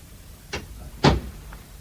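Two quick knocks of a door being shut, the second a louder thud, followed by a faint tap, all close by in a quiet room.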